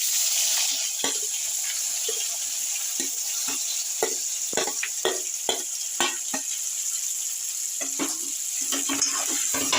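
Onions sizzle and fry in a pan with turmeric and chili powder, a steady soft crackle broken by frequent sharp scraping clicks of stirring, with no talk.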